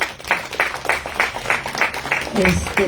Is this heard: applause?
yes